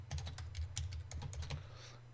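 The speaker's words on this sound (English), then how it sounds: "And I'm gonna type in NET stat." Keys clack in quick, uneven bursts as a command is typed on a computer keyboard, close and clear with a low steady hum beneath.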